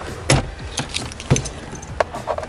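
Car keys picked up at a self-service rental car pickup point, giving a few brief metallic jingles and clinks close by, with short gaps between them and no talking.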